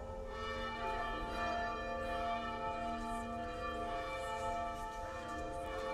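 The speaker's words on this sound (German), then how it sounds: "Mittlere Glocke, lass auch deinen Klang erschallen und läute es allen Menschen ins Herz." A middle church bell rings out on Christmas Eve, its long, steady, resonant tone sustained and sounding at moderate distance, alone without talk.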